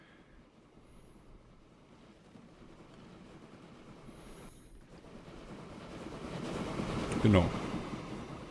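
A train rolling through in the Train Fever rail-building game, its steady rumble slowly growing louder, with a wheel squeal near the end and a brief spoken word underneath.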